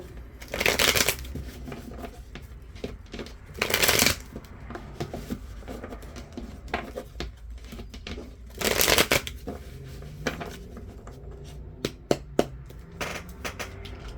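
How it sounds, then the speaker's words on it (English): Tarot cards being shuffled in several quick bursts of riffling, close by, separated by quieter handling noises and small taps. "I'm trying to shuffle quick."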